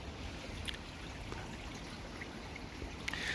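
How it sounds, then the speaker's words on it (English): Water pours steadily into a garden pond during a top-up, a soft continuous splashing and trickle heard from a moderate distance, with a few faint clicks and no talk. "Having a bit of a water top up today."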